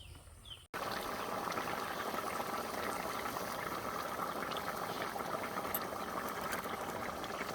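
Jackfruit curry bubbling steadily in a pot on a new stove after water is added, a loud continuous boil that starts abruptly after a short pause and holds evenly throughout.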